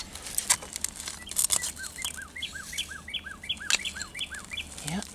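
A bird sings a repeated series of clear, rising-and-falling whistled phrases, fairly close, over a faint outdoor background with a few brief noises.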